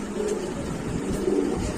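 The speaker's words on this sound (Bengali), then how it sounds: "এটা ব্ল্যাক রেসার ভাই না? হ্যাঁ, ব্ল্যাক রেসার, ব্ল্যাক রেসার।" Black racer pigeons at a pigeon shop cooing softly and steadily nearby, with low rolling coos repeating over a faint background hum.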